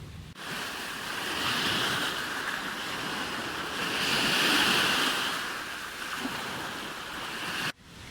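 Sea waves wash steadily onto a beach in the Tricity area of the Polish coast, a continuous broad surf roar with slow swells in loudness and some wind noise, no voices.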